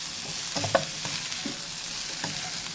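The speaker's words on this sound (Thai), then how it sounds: "แล้วก็ผัดให้เข้ากัน" Fried rice with pork sausage and fresh chilies stir-fries in a pan, giving a steady, even sizzle with a few soft scrapes and taps of the spatula.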